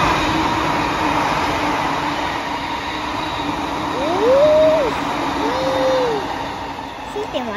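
A Sobu Rapid Line train rumbles past with steady rolling wheel noise, and rising and falling whine tones sweep in near the end as it passes close by.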